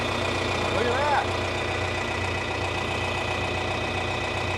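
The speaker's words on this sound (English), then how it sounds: "They don't make tractors like this anymore." An old farm tractor engine idling steadily with a low, even rumble and faint knocking, while someone talks briefly over it nearby.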